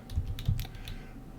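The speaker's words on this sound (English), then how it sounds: "I'll go ahead and type this out" Close, moderately quiet typing on a computer keyboard: a short burst of several clicky keystrokes with no voices.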